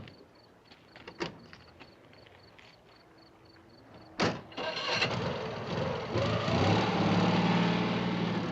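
An engine cranks and catches with a sharp burst near the middle, then settles into a steady, loud idle. Faint clicks and door handling come before it. A tense 1960s thriller scene.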